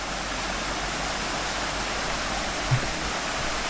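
A river and its side stream flowing along a long-distance hiking trail in Switzerland, a steady, loud, unbroken rush of water with no voices.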